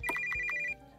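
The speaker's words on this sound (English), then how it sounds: "Oh, that's my phone" An old-fashioned telephone ring from a video game about investigating a haunted theatre, sounding as a short burst of rapid, bright bell trills that stops abruptly, with no voices.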